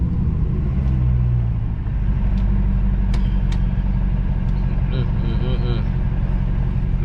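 A 2020 Dodge Charger Hellcat Widebody on fresh Nitto NT05 tires accelerates onto a highway, its deep engine rumble steady and heavy from inside the cabin, with a few higher whines and chirps rising midway.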